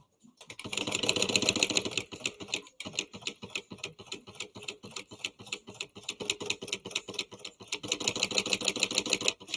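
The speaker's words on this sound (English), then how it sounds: "now I'm just going to baste the lining on top" A sewing machine runs in fast, rhythmic stitching bursts while basting lining fabric for a train case, close and steady with a brief stop partway through and no talking.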